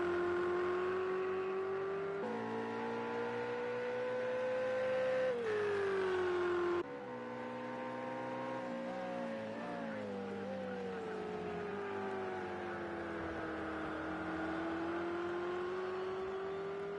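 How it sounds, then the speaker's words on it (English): Ferrari race car in Project CARS 2 at Watkins Glen, a sustained high engine whine held at full throttle, with pitch shifts at gear changes, loud and steady throughout. "That Ferrari is fast on the straights."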